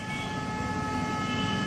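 Loud, continuous pressure horn blaring in Delhi road traffic, a sustained steady tone with strong harmonics over dense traffic rumble, running through the whole moment.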